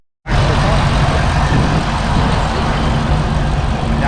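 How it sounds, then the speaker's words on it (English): A Ford Mustang engine fitted with headers and an X-pipe exhaust bursts to life and holds a loud, rough, steady roar, close by, for a few seconds. "I'll rev it just a little bit"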